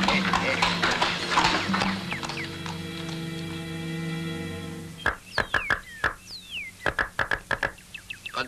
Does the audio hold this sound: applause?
no